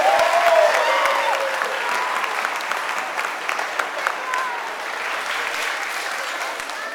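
A large school audience gives its teachers a long, loud round of applause, many hands clapping in a thick, sustained roar that gradually eases slightly over several seconds.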